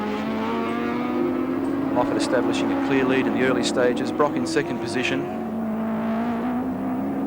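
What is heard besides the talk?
touring cars racing past at Oran Park, 1983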